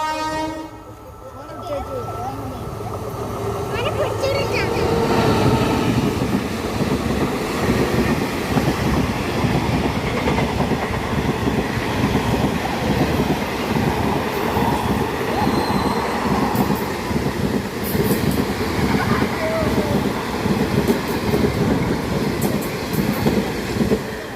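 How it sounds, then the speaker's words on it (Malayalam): A train rumbles past close by with rhythmic clattering wheels, preceded by a horn blast at the start, loud and sustained throughout. "റെയിൽ ട്രെയിന് പോകുന്നത് നമുക്ക് കാണാം"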